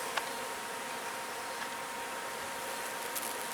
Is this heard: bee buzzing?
yes